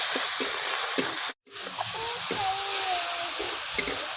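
Spice paste with salt, turmeric, chili powder and a little sugar sautés in a pan, giving a steady soft sizzle with light stirring scrapes and a brief cut partway through.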